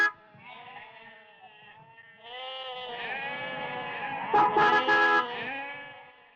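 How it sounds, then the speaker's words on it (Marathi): A flock of sheep bleats nearby on a village path with several overlapping, drawn-out calls that grow louder and more crowded toward the end, with no talking heard. "धनगरा मेंढ्या घे बाजूला."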